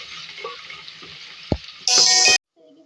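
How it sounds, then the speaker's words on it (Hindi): Onion with ginger-garlic paste frying in oil in a pan, a steady soft sizzle broken by a short utensil knock and a louder burst of hissing near the end before it cuts off. "अदरक लहसुन का पेस्ट ऐड करूँगी इसमें 1 खाने का चमचा। फिर फ्राई करेंगे इसके साथ।"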